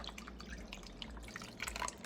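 Seasoning mixture being poured over beef for Italian beef, a steady wet trickling and dripping with small splashes, close by over a low background hum.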